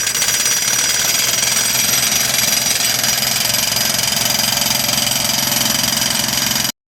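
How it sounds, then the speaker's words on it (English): A heavy jackhammer, around 50 to 60 pounds, pounds rebar pins into a stream bed during a stream improvement project, hammering in a loud, rapid, unbroken rhythm for several seconds before cutting off abruptly. "Jackhammer weighs about 50-60 pounds"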